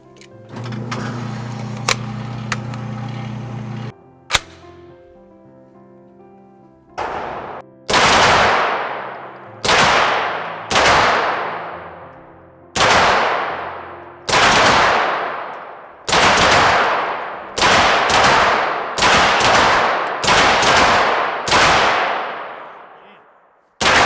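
Heckler & Koch MP5 submachine guns fire at targets on a shooting range, a series of loud, sharp single shots in an uneven rhythm with ringing decay, after an earlier metallic clang and hum.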